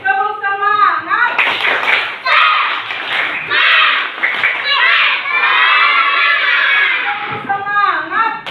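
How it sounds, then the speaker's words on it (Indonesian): Schoolchildren in a classroom do a rhythmic spirit clap, with patterned bursts of clapping mixed with loud children's chanting and shouting, led by an adult voice. "Tepuk semangat."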